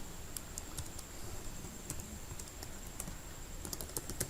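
Steady typing on a computer keyboard while Python code is written, quick light key clicks in an even stream with a few sharper taps, close and fairly quiet in a still room.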